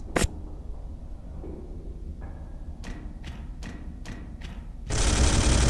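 Gunfire in the Space Hulk video game: one sharp shot, then a quick run of four or five close, punchy bursts, ending in a loud, sustained roaring blast. No one speaks.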